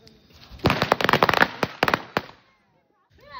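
A rapid burst of sharp firecracker bangs crackles for about two seconds, followed by a brief voice.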